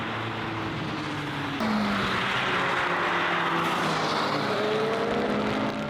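A Honda Civic Type R and a Suzuki Swift Sport race around a rain-soaked track in pouring rain, with a continuous engine roar that rises and shifts pitch alongside a hiss of spray and tyre noise.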